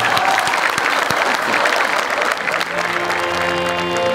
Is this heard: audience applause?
yes